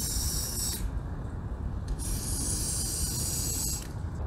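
Two long hissing bursts of aerosol fogging oil sprayed into a boat engine's spark plug holes, close and steady, separated by a short pause, over a low rumbling background.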